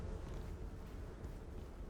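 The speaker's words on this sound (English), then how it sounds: "All right, looks like just bees in here." Bees buzzing inside a cave in the survival game Icarus, a steady low droning hum that runs evenly through the whole stretch at moderate level, with no talk over it.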